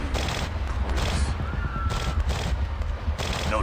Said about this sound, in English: That's all gunfire.